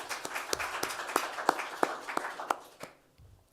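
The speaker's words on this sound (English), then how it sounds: "So if we could just get a round of applause for Sue" An audience at a sea-to-soil symposium claps in a brief round of applause, individual sharp claps standing out from the patter before it thins and dies away after about three seconds.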